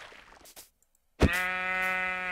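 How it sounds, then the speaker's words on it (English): A Minecraft sheep gives a single loud, close bleat with a wavering, nasal tone, following a brief near-silent pause after some earlier rustling. "Sheep!"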